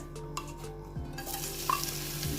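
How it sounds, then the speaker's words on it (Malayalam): Crushed green chilli, ginger and garlic sautéing in oil in a pan, giving a steady close sizzle with intermittent scraping stirs of a spoon, moderately quiet and without any talking. "ഇതെല്ലാം കൂടി രണ്ട് മിനിറ്റ് എടുത്തൊന്ന് മൂപ്പിച്ചെടുക്കാം"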